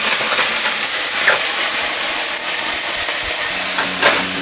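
Sugar, oil and a spoonful of soy sauce sizzle loudly in a hot pan for spicy stir-fried pork, a steady broadband hiss with brief flares of crackle, no voices.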